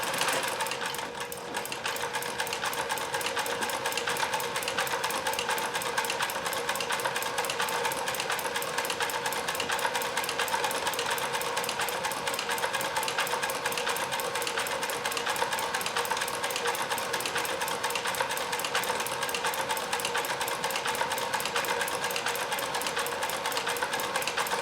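A Kenmore 158.1040 sewing machine fitted with a Singer zigzag attachment stitches steadily up close, its fast even needle rhythm running without pause throughout.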